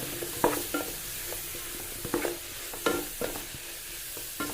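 Large tomatoes fry and sizzle in a pan while being stirred, with several distinct scraping stir strokes over a steady low sizzle, close and fairly quiet.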